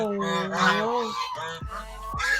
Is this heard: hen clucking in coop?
yes